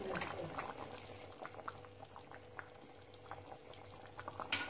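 Thick Tamil curry (drumstick poricha kuzhambu) simmering in a pot, a soft steady bubbling and popping at low volume, close by with no voices.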